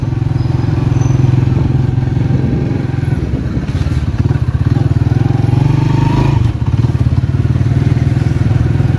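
Motorbike riding through busy traffic, its engine a steady loud drone with harmonic bands throughout, broken by a few bumps and clatters, with no talk over it.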